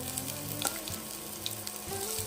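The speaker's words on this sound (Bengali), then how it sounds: "পেঁয়াজগুলো অল্প আমি লাল লাল করে ভেজে নিব।" Chopped onions fry in oil in a hot kadai, giving a soft, steady sizzle with small crackles that continues evenly throughout and is heard on its own.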